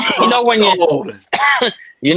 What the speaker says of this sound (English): Who's coughing like they dying?